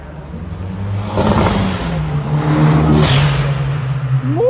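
A turbocharged Volkswagen Golf engine idles with a steady hum, then revs up strongly, close and loud, with rising engine drone and faint whirring over a few seconds.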